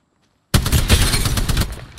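Dense, loud burst of gunfire in a shooter video game (Apex Legends-style battle royale), starting abruptly after a short silence and sustained as rapid overlapping shots for well over a second.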